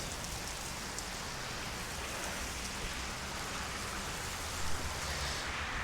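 Steady rain falls outdoors in a continuous broadband hiss, close and even throughout, with no voices.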